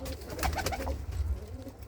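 Racing pigeons coo in a close, continuous low burble, several birds overlapping at a Gurdaspur racing loft, with no voices present.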